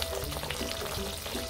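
Papas a la huancaína sauce bubbles and sizzles in a pan over medium heat while being stirred constantly, a steady, close crackling fry with faint scraping.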